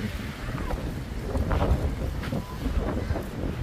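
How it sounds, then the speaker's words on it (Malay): Strong wind gusting hard against the microphone during heavy snowfall in Sapporo in November, a steady roar with louder surges, with faint voices mixed in. "Angin kuat."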